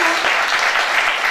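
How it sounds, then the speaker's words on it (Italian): A brief burst of dense audience applause at a football association event, close and even, with no talk over it. "Un applauso a Lorenzo."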